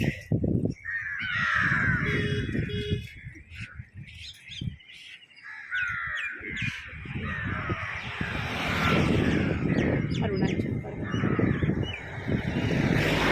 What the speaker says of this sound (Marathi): काही लोक कावळ्यांना असं इथे फरसाण टाकतात कावळे ते खातात